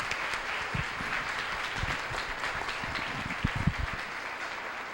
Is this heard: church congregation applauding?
yes